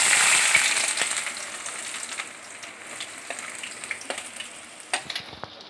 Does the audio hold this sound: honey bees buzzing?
no